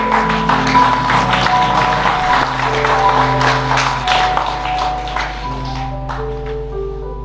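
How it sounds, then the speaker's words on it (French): Congregation applause fills a church sermon, a steady wash of clapping over sustained organ-like tones, loud and continuous for several seconds before thinning toward the end. "Est-ce qu'on peut applaudir cette parole?"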